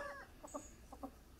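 Farm chickens outdoors giving two short pairs of soft clucks, faint and distant, over a quiet background.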